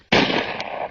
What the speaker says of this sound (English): Then I heard a shot